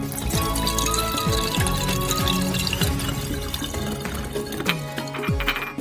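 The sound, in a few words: two bottles of alcohol poured into a flask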